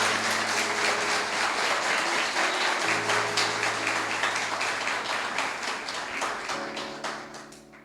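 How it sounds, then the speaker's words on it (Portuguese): A church congregation applauds together in steady, dense clapping that carries on for several seconds with organ-like sustained tones beneath, gradually tapering toward the end. "se você puder dar um aplauso a Jesus por essa equipe maravilhosa"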